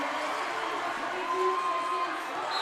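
Crowd at a boys' high school basketball game between Metamora and Marmion Academy roaring and cheering in a steady, dense wash of voices, loud and sustained.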